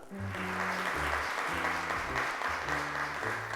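Applause from a studio audience welcoming a child onto the stage at a Turkish children's TV show, steady dense clapping over low music throughout.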